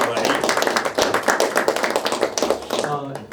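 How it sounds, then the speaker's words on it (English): Audience applause at an esports summit, a dense burst of clapping filling the hall, loud and continuous, with voices mixed in beneath it. "Another round of applause for Juliano's wonderful presentation, please."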